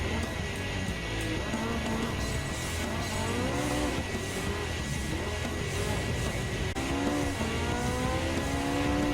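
A Ferrari race car laps a circuit in Gran Turismo 7 on medium compound tires, its engine droning steadily and loudly, pitch climbing and dropping through gear shifts, with faint tire noise and no talk.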